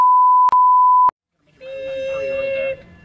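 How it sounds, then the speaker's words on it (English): A steady censor bleep tone plays in two pulses with a short gap between them, then cuts to silence before a person begins talking. "it's hard to bleep things out"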